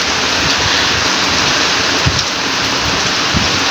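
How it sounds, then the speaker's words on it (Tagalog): Heavy rain pours down outdoors in a steady, loud, close hiss, with occasional soft thuds of drops hitting nearby surfaces and no voices. "Malakas ang ulan mga kapakner, kaya hindi natin nabibidyohan."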